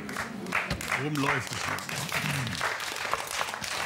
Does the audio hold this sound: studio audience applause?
yes